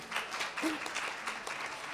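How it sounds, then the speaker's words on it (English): Audience applause for a panel of speakers at a social work alumni association event, a steady wash of many hands clapping throughout, fairly soft and distant. "one more round of applause for them"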